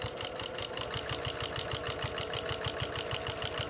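Brother sewing machine fitted with a walking foot, stitching quilt pieces for a square-in-square block, a fast, even rhythmic chatter of needle strokes, close and steady throughout with no talk.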